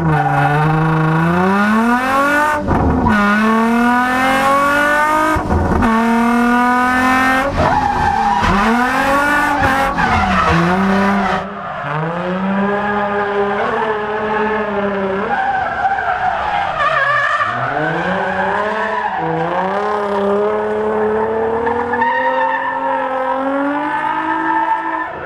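Drift car on a racing track skidding with loud, sustained tire squeal and engine notes rising and falling through repeated gear changes, a few sharp breaks between shifts, close and dominant with no talk.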